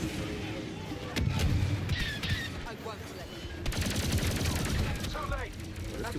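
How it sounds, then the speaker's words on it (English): Homing shot weapon firing repeatedly in a shooter video game, a dense run of loud gunfire-like blasts with chaotic battle noise throughout, layered over game effects. "what I'm shooting now is it's homing shot"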